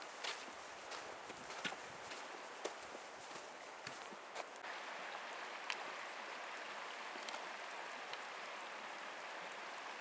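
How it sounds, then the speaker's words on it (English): Yosemite Creek running beside a wilderness backpacking trail, a steady broadband rush of flowing water that stays close and constant, with scattered light taps and crunches like footsteps layered over it. "Got the creek running alongside us here."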